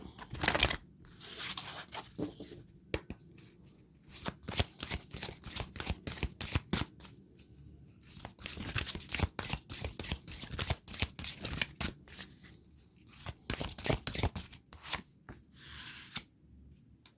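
Oracle cards are shuffled close up for a tarot-style reading, in bursts of dense, rapid papery riffling and flicking separated by short pauses.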